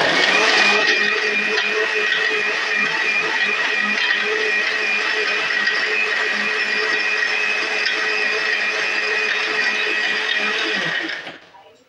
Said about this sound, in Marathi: आता आपण हे मिक्सरला लावून घेऊया।